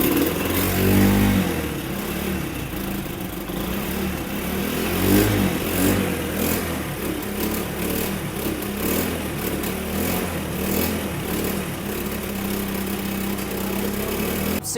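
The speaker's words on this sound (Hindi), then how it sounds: "जैसे ही चौक नीचे करते हैं मिसिंग करती है और फिर बंद हो जाती है।" A Honda CD 70 motorcycle engine runs unevenly with the choke down, its rough, sputtering misfire loud and close throughout and steady broadband engine noise beneath the irregular beats.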